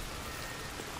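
Rain falling on a house roof in the video game Hellblade 2, a dense, even hiss of drops that stays constant and fairly soft, with no voices over it.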